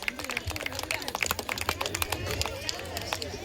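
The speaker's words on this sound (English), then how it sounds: "Clap for the children." Applause for children at a school event, a crowd clapping in a dense, continuous patter with a voice speaking over it.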